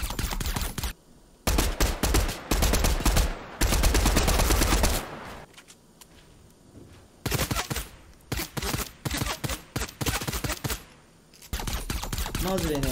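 Shadow Tracker gun in the Fortnite video game firing through walls: loud clustered bursts of rapid shots separated by short pauses, repeating in several volleys.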